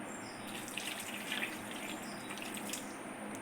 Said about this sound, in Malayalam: നമുക്ക് ആവശ്യത്തിനുള്ള വെള്ളം കൂടി ഒഴിച്ചു കൊടുക്കാം